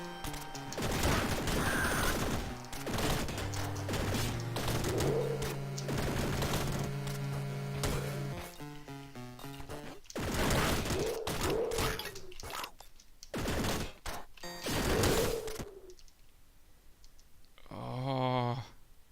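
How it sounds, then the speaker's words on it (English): Machine gun fire in the retro video game Downwell, bursts of rapid chiptune-style shots mixed with clicking game effects and tones, close and moderately loud, in uneven bursts with pauses. "Machine gun's not worth it."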